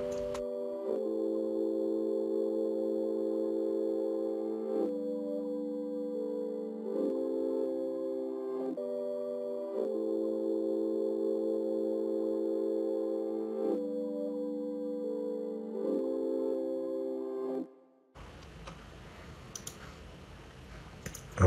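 Reversed chord melody made in FL Studio for an ambient RnB beat, swelling sustained chords that shift every few seconds in a looping pattern, loud and alone, ending in a brief noisy burst.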